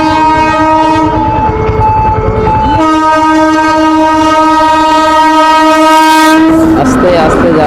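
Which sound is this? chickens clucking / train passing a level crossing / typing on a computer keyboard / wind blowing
train passing a level crossing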